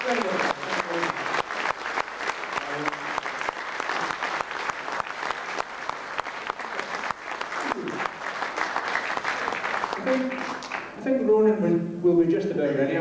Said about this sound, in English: You might as well give me a wee clap as well.